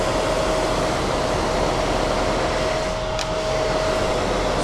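A wood lathe spins steadily at about 240 RPM while turning a blank cast from epoxy and floor chips, giving a continuous close motor hum with a thin steady whine and a brief dip near the end.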